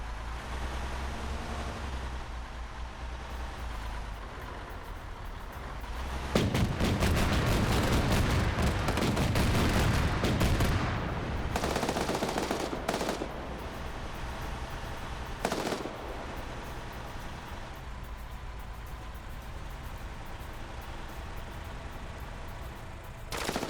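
Rapid bursts of automatic gunfire and autocannon fire in a multiplayer military shooter match, dense and loud through the middle with scattered shots and a sharp blast later, continuing at a steady battle level.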